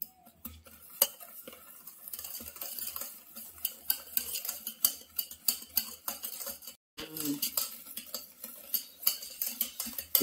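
A bowl of eggs and powdered sugar being whisked by hand for a Christmas cake, rapid rhythmic scraping and clinking of the whisk against the bowl, close and continuous with one brief pause.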